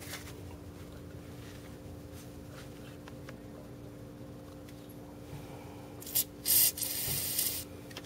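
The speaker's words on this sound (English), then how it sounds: "Now I'm going to lube it up, the tap that I have, with a little bit of PB Blast, so help it cut." PB Blast lubricant sprayed onto a tap during Nissan Hardbody VG30E timing sprocket work: two quick hissing spurts and then a longer steady spray near the end, close and fairly loud over a low steady hum.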